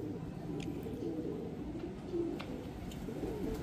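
Breeder pigeons coo softly in a loft, low murmuring calls repeating over a steady hum, faint and close with no talk.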